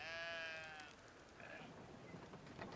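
A sheep in the video game Brothers: A Tale of Two Sons gives one short, quavering bleat near the start, followed by soft ambient game sounds and faint patter.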